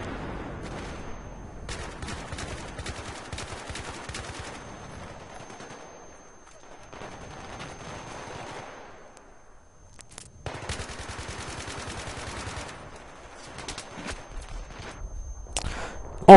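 Battlefield 3 gunfire, bursts of rapid automatic fire in several clusters, some near and sharp, others fainter and more distant, with quieter stretches between.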